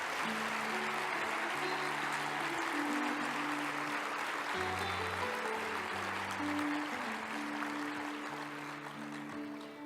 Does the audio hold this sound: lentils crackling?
no